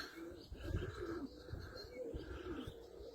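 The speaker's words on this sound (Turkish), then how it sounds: "Kuşlar yoruldu ama uçuyorlar." Pigeons during a flight training session on a hot, sunny day, cooing and calling softly at a distance over a steady outdoor background murmur.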